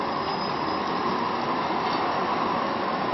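A high-floor tram pulls into the central station stop in Frankfurt (Oder), giving a steady rolling rail rumble with a faint wheel squeal and no talk.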